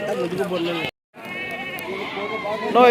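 Goats bleat repeatedly in wavering cries at the Kadiri livestock market, with a brief silent gap partway through and a louder bleat near the end.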